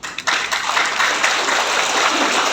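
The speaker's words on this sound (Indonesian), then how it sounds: "tepuk tangan Anda semoga itu adalah bentuk tanggung jawab" A crowd at a PDI Perjuangan political rally in Sanggau, West Kalimantan, bursts into loud, dense applause that carries on steadily for a couple of seconds with no talking over it.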